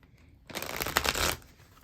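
Tarot cards being shuffled close up, a crisp riffling burst of papery flutter lasting about a second, alone in a quiet room.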